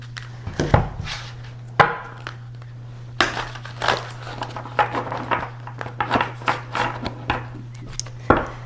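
Cards being shuffled and handled close by, a string of crisp riffles and slaps in irregular bursts over a faint steady electrical hum.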